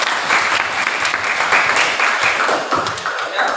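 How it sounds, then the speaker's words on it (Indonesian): A room of participants applauding group one after a class presentation, steady, loud clapping from many hands that carries on throughout. "Kita aplaus dulu untuk kelompok satu."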